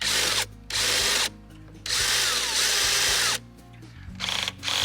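A power drill whirs in several loud bursts separated by short pauses, close by, with the motor revving up and down, working on an RV's Palomino progressive actuator.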